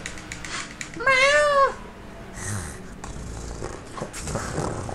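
A voice imitates an unhappy cat with one loud, drawn-out meow, followed by quieter rustling and low murmurs.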